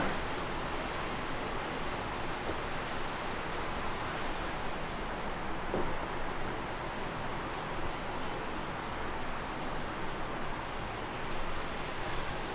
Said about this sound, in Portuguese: Cara, voltou a chover agora de novo, torrencialmente aqui.